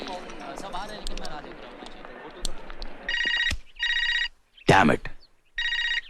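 Three bursts of ringing from a telephone follow on from speech and a sharp clatter. The rings are regular and electronic-sounding, with short pauses between them.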